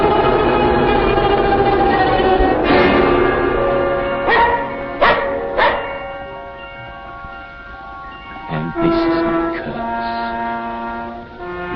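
Dog barking in an old fantasy film soundtrack, several sharp barks in a short cluster midway and again later, heard over loud orchestral music with sustained horn-like tones.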